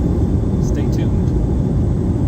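Steady broadband roar fills the cabin of a Delta Airlines airliner in flight, a constant close hiss and rumble with no change throughout.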